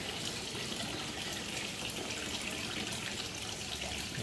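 Water poured over pepper plant cuttings planted in polybags, a steady soft hiss of running water that stays even throughout, with no voices.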